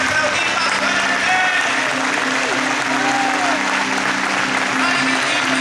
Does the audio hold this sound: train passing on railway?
no